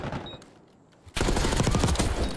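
Rapid automatic gunfire bursts out loud in a Call of Duty League match after a quieter lead-in with faint background sound, continuing as a dense rattling stream to the end.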